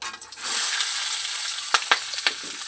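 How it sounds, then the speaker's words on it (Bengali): Capsicum, carrot and onion fry in a pan with black cumin and dried chilli, a steady broadband sizzle punctuated by a few sharp stirring scrapes near the end. "আমি হালকা ভেজে নেব"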